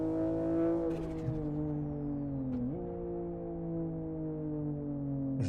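Car engine in the Live For Speed racing game, driven near walls in a city area, a steady buzzing harmonic drone whose pitch dips and rises with gear changes and throttle, loud and close.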